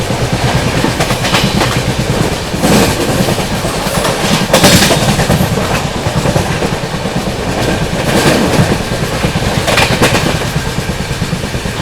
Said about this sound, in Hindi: सामने से आ रही है गोंदिया से चलकर कोल्हापुर की ओर जाने वाली महाराष्ट्र एक्सप्रेस